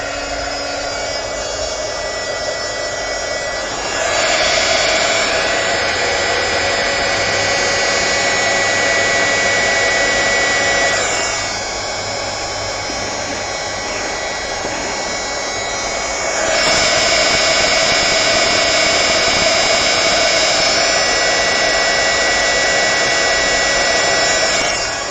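A handheld heat tool blows hot air in a steady, loud whoosh that switches on and off in several long bursts, with a constant broadband rush and no talking.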